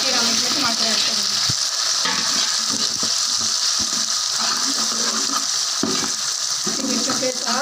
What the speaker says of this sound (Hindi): प्याज़ों के साथ उसको अच्छी तरह से भूनना है।